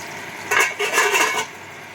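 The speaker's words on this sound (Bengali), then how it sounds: "পাবদা মাছ খুব ফাটে, সেই কারণে আমি ঢেকে দিচ্ছি।" A metal lid clatters onto a pan of frying pabda fish, a short burst of clinks and rattles over a faint background hiss.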